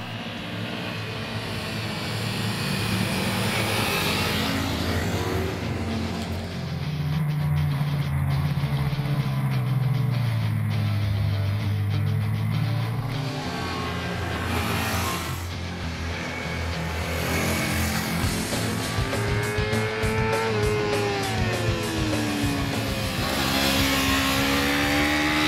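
Small 250–300cc motorcycles from Honda, Kawasaki and Hyosung, fitted with ABS, ride past with steady engine drone that swells and revs as they accelerate, loud and close for the whole stretch with no talking.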